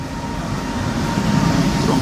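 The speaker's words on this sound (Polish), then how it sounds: "Właśnie tutaj wjeżdża KM-eczka," A Koleje Mazowieckie commuter train pulls into a station, a steady rumbling roll of wheels with a faint high whine, close and continuous.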